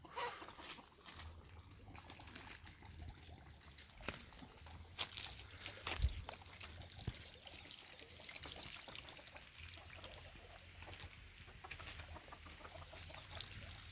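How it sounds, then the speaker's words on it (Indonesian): A steady rush of falling water from a waterfall near Lake Toba fills the background, broad and continuous, with occasional splashes and faint footsteps nearby. "Di sana juga ada air terjun."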